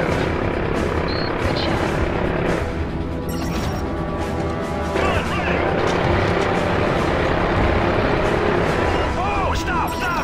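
Dense, loud battle din from Call of Duty: Modern Warfare 3 as attack helicopters thunder overhead amid crashes and explosions, with shouting voices mixed throughout the continuous rumble.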